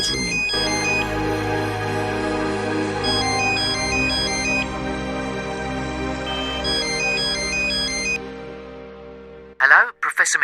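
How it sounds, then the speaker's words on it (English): A mobile phone plays a bright melodic ringtone repeating for several seconds, then stops, followed by a brief burst of a voice, in the video game Martin Mystère: Operation Dorian Gray. "My mobile's ringing."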